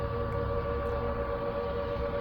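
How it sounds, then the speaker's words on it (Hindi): Civil defense air raid siren wailing during a blackout in Jammu and Kashmir, a steady sustained tone holding loud and continuous throughout with a low rumbling background underneath. "सायरन की आवाज़ सुनिए आप"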